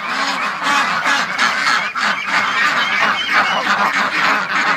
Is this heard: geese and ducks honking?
yes